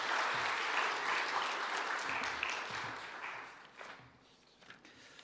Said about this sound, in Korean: 우리 박수 한번 하도록 하겠습니다